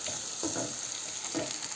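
Onion and garlic frying for a desi chicken curry, a steady low sizzle with two brief scraping stirs of a spoon in the pan, close and fairly quiet, no voices.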